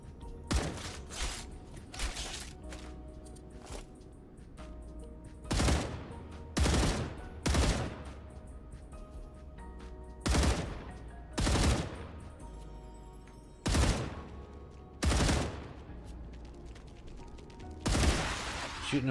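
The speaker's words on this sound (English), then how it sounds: "Shooting them from so far" Gunfire from a video game, with sniper rifle shots fired at long range: loud, sharp single reports spaced a second or more apart over a steady ambient bed, some in quick pairs, with no talk.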